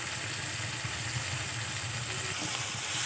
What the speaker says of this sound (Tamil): 2 வெங்காயம் 2 தக்காளி ஆட் பண்ணிட்டேன். நல்லா வதக்கி விட்டுக்கலாம்.